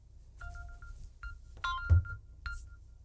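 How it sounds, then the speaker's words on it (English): A Samsung Galaxy 22 phone rings after being located from a Samsung QN70F television, giving a series of short, bright electronic chime tones. They are fairly faint and sound alone, with no talk. "if you have a Samsung phone, you can also set it up to ring"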